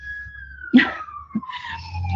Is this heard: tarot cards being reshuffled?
no